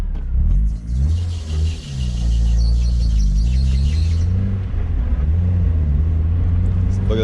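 A Mazda Miata engine with a stalling fault turns over, fires up and settles into a steady idle rumble with a brief rev, heard close and loud throughout.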